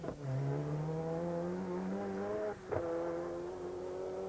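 A Ford Cosworth rally car engine at the 1991 Circuit of Ireland Rally holds a strong, steady, slightly rising note, briefly breaks off for a moment, then picks up again, loud and close with no talk.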